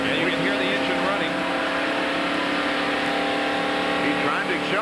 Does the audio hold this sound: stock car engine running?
yes